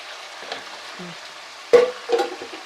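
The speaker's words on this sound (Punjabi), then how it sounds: "ਆਪਾਂ ਤੜਕਾ ਤੇ ਗੰਡੇ ਤੇ ਮਿਰਚਾਂ ਪਾ ਦਿੰਦੇ ਤੇ ਇਹ ਨਾਲ ਹੀ ਮਿਰਚਾਂ ਭੱਜ ਜਾਣਗੀਆਂ" Onions and green chillies hit hot oil for a tadka, setting off a sudden sharp sizzle after a few quiet stirring touches, then a second shorter burst of frying, up close.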